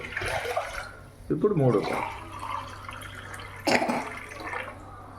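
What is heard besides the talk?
pouring water into cooking pot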